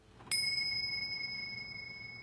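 A single clear strike of a small hand bell rings out, then its bright metallic tone slowly fades over the next two seconds.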